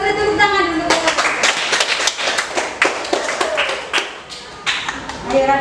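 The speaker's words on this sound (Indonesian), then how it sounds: "Kita beri tepuk tangan dulu." Classroom applause from a class of eighth-grade students, a burst of scattered hand claps and taps that runs throughout, close and fairly loud, with voices speaking over it.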